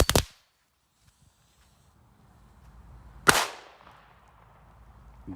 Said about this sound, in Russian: немного опасная петарда